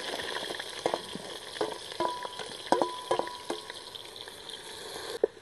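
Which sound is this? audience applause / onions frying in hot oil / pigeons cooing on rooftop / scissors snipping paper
onions frying in hot oil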